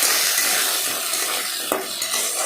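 Chopped potatoes frying in oil in a wok, a close, constant sizzling hiss with a few light stirring scrapes and clicks near the end.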